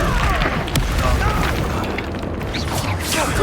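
Incendio fire spell blast in Hogwarts Legacy, a continuous roaring whoosh of flame with rumbling booms and bursts during a fight, with voices shouting over it.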